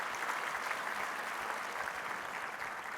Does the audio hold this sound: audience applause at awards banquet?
yes